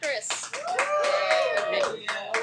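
Students in a classroom clap and call out at once, a short burst of scattered hand claps mixed with loud overlapping children's voices throughout.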